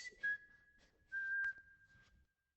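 A cartoon character whistles a slow lullaby, a few sustained clear notes close and alone against near silence, fading out at the end.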